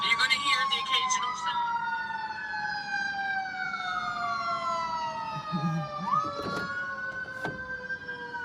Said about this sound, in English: So you're gonna hear the occasional siren, hot rod, aircraft.